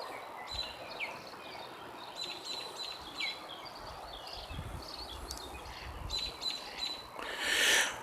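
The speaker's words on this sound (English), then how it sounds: "the birds chirping and all of that" Birds chirp and tweet in a park, with repeated high calls over a steady bed of insect-like buzzing and faint distant rumble; no one speaks.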